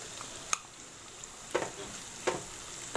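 Vegetables and tomato fry in a pan for restaurant-style noodles, giving a soft, steady sizzle with a few sharp stirring clinks at intervals, alone and fairly quiet.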